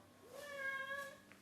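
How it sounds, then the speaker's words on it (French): A cat meows once, a rising then falling tonal cry lasting about a second, fairly close and moderately loud, with faint room noise and no talking. "Ça c'est mon chat que j'enlève parce qu'il n'y a rien à faire là."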